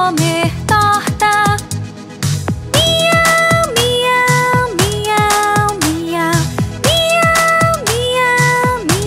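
Meowing kittens within a children's song about three little kittens, repeated sung meows over a bouncy musical accompaniment, loud and rhythmic throughout.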